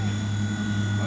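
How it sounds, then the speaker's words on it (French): A Wltoys V911 mini RC helicopter hovers and moves forward, its small motor and rotor giving a steady, close, continuous high whine with a strong low buzzing hum throughout. "On stabilise l'hélicoptère et on touche un petit peu à la marche avant"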